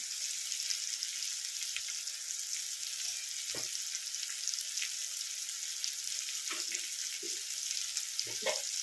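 Spices sautéing for a Bengali chicken curry, a steady bright sizzle with occasional soft clinks and stirring scrapes, close and continuous without any voices.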